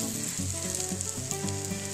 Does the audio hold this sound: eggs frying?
yes